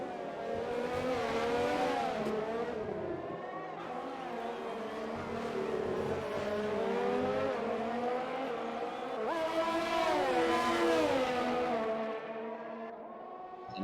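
Race cars at the Azerbaijan Grand Prix circuit, a McLaren among them, roaring past in a sim-racing event: continuous high-revving engine whine rising and falling with gear changes, fairly close and loud, with no speech.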